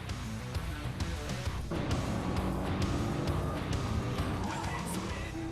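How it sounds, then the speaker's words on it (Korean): A supercar roars along an empty road, its engine a dense, steady loud growl with broadband rumble that swells slightly as it drives past, heard alone without talk. "드디어 그 정막을 깨고 굉음을 토해내는 자동차."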